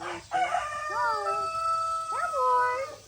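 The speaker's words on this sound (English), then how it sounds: "He is a pretty cool rooster." A farm rooster crows close by, starting with a long, wavering call and following with a second rising crow, loud and clear against a quiet background.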